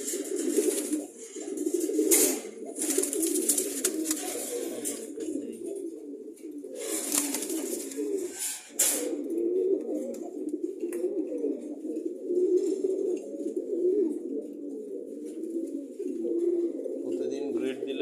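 Several pigeons coo almost nonstop in a low, throaty, rolling chorus close by, with a few sharp rustling or flapping bursts breaking in.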